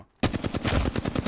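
Rapid automatic gunfire in Apex Legends breaks in suddenly after a brief quiet moment, then carries on as a dense, loud, close string of shots with no pause.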